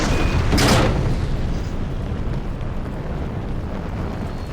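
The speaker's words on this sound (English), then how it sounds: "Sequence initiated. Internal guidance. Launching in 3, 2, 1." A rocket launching in a Zombies-mode video game, opening with a sharp burst and settling into a loud, sustained rumbling roar.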